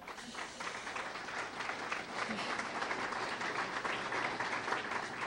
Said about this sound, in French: Mais on peut-tu applaudir Jésus?